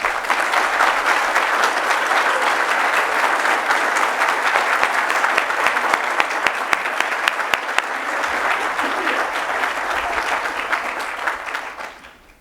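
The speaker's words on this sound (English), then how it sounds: "Let's give them another round of applause, please." Sustained audience applause fills a hall at an alumni awards ceremony, loud and steady for about ten seconds before tapering off at the end.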